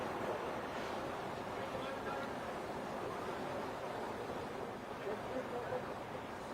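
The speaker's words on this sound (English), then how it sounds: "showing folks the situation as water continues to flood these roads" Floodwater from a massive water main break pours across city roads, a steady broadband rush and roar that stays loud and continuous throughout with no breaks.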